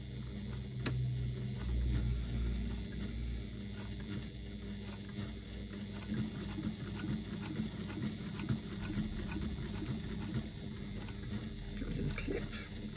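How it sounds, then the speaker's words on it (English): A sewing machine stitches a quarter-inch seam along the bottom of a fabric card slot on a pocket, a steady continuous mechanical whir running close and unbroken throughout, with no talking. "I'm going to stitch along the bottom of my card slot using a 1/4 inch seam allowance"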